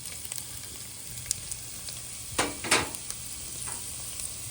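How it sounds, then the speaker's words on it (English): Onions land in hot olive oil in a pan, and the sizzle stays quiet and steady, broken by a couple of brief louder hisses and stirring scrapes. No one talks. "We're just gonna add a little olive oil. We're gonna add our onions."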